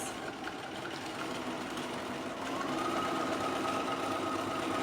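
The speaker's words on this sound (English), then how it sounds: "set my machine on 1, the standard stitch length, and I'm going to sew down the middle of the seam allowance" A home sewing machine running a straight stitch at standard stitch length down the middle of a seam allowance on dark fabric, a steady close motor whir with a faint rapid needle patter throughout, no talking.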